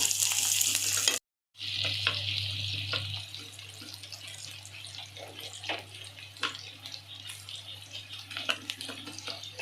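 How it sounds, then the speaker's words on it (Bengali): Sizzling and crackling from garlic frying in a pan, a steady hiss with scattered pops, after a brief cut near the start. "এই যে ভাজছি"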